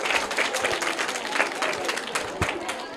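Audience applause for the third-place winner at a school prize event, a dense continuous wash of clapping filling the whole stretch with steady loudness and a few sharper claps standing out.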